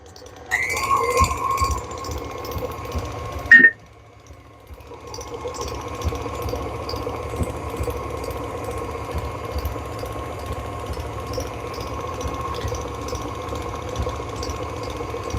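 An electric mixer runs on medium-high, beating eggs and vanilla extract into yellow cake batter with a steady mechanical whir, a sharp clatter near four seconds, then a continuous drone to the end.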